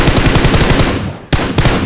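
Rapid automatic gunfire in PUBG Mobile, a loud close burst of quick shots that cuts off briefly and then resumes.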